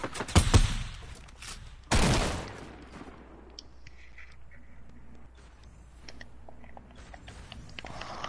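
Video game gunfire: a rapid close burst of shots, then another loud blast, followed by quieter scattered pops and faint distant shots over a low hum.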